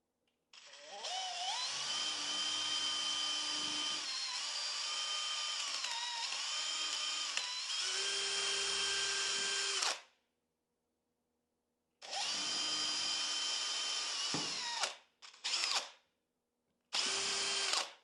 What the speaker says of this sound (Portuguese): eu vou fazer um furo